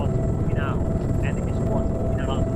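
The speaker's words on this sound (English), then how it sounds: "Now you got the helicopter flying super high here." Helicopter flying high overhead in a military PvP video game match, a continuous dense rotor and engine drone filling the background, steady and unbroken, with a few faint chirping tones drifting through.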